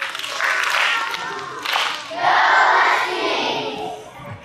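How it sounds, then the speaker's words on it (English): A school class cheers and claps at an elementary school assembly, a burst of mixed crowd noise and applause, with a louder swell of clapping and shouting partway through. "Let's give a big Husky cheer to the incredible Miss Best class."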